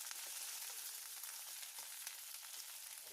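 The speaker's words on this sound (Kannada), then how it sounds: "ನುಗ್ಗೆಕಾಯಿ ಹಾಕಾದ್ಮೇಲೆ ಈರುಳ್ಳಿ ಜೊತೆ 1 ನಿಮಿಷ ತನಕ ನುಗ್ಗೆಕಾಯಿನ ಫ್ರೈ ಮಾಡ್ಕೋಬೇಕಾಗುತ್ತೆ" Drumstick pieces and onion fry in a pan for a Karnataka-style coconut masala gravy, giving a steady, dense sizzle throughout with faint crackles and no talking.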